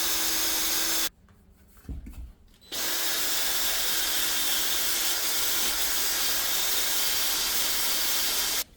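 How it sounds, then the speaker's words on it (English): A pressure washer hisses steadily as it sprays degreaser onto an aluminum LS6 cylinder head from a C5 Corvette, cutting off briefly for a moment of near quiet before the loud, continuous spray resumes. "Now all of this is just oil residue, some degreaser, and a little pressure washer."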